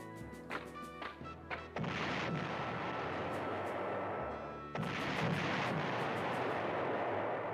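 Stuka dive-bomber attack in the PlayStation game Panzer General, with a few rapid cannon-like bursts followed by long, loud rumbling explosions that fill the space, no talk.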